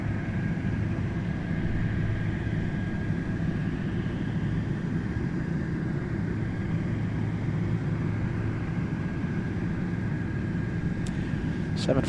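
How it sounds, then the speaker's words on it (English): A Boeing 747-8 taking off at Anchorage's Ted Stevens International Airport gives a steady, distant jet-engine roar that holds evenly throughout, fairly faint, with a voice talking now and then. "This one flying to Hong Kong. And it's taking off, well, right on time for the 74-8."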